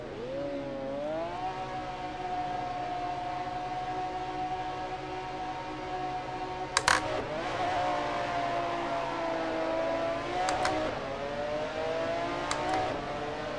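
Engine drone from a field of McLaren F1 GTR race cars in Assetto Corsa at Imola, held steady on the grid, then a rise in pitch as they launch, with a few sharp clicks over the loud, continuous roar.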